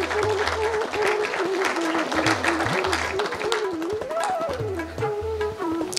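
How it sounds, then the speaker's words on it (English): Audience at an Engineers Day certificate ceremony claps in a steady round of applause, while a voice speaks over it and music or a tone plays underneath. "Round of applause."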